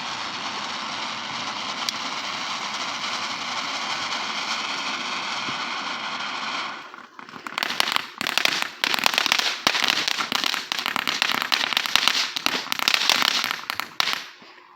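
Short-fuse consumer fireworks set off at night ahead of the Fourth of July: a steady fizzing, hissing fuse burn for several seconds, then a loud rapid barrage of crackling bangs and pops that continues to the end.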